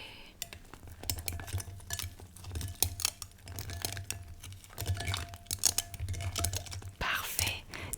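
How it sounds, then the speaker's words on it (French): Potion stirred in a bowl during a Halloween witch roleplay, with soft clinking and scraping strokes in an uneven rhythm, close and quiet, under a low steady hum and occasional whispered speech. "Alors je vais mélanger."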